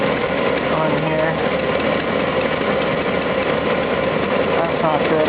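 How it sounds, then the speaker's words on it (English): A van engine with an exhaust manifold leak idles steadily on a hot day, giving a continuous close mechanical rumble with a faint ticking texture and no break for the whole stretch. "There is definitely an exhaust manifold leak"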